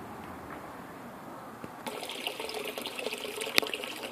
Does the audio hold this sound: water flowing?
yes